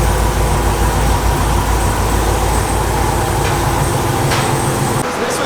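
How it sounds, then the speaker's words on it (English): A supercharged Camaro running on a dyno, a loud, dense, sustained engine roar with heavy rumble that eases slightly near the end. "We're loading it up on the dyno."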